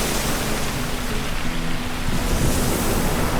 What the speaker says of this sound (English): it appears the reef pass we intended to take into the anchorage is unpassable due to breaking waves